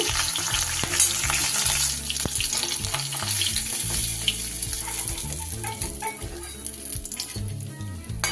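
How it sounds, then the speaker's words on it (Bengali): A piece of katla fish fries in hot oil, a close, steady sizzle with scattered crackles and a few utensil knocks, no talking. "এটা একটু ভালো করে ভেজে নেব।"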